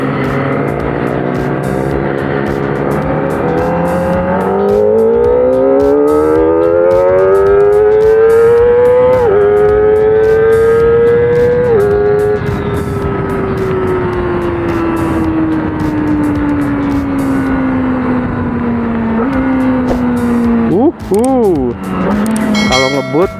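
A Kawasaki ZX25R motorcycle speeds along the road, its loud, close engine whine climbing in pitch and then slowly sliding down, with brief dips at gear changes across a continuous run.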